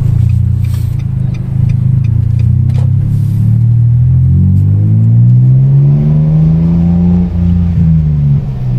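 A Datsun Go Panca car, running on Pertalite fuel, accelerates steadily, its engine drone climbing in pitch through a long continuous pull with a loud, close rumble throughout.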